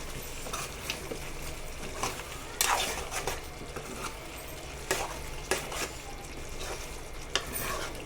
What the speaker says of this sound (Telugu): ముక్కలు ఇరగకుండా కలుపుకోండి ఫ్రెండ్స్